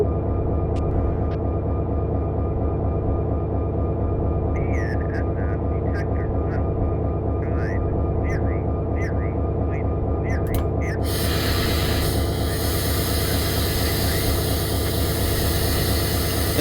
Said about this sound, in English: In the background, we just heard the detector triggered by the stack train that just came by